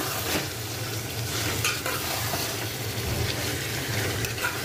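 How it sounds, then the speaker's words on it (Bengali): Meat leg pieces fry with spices in a pan, giving a continuous moderate sizzle with occasional stirring scrapes. No voices are heard. "আমি বেশ খানিকটা সময় মশলার সাথে মাংস কষিয়ে নিব"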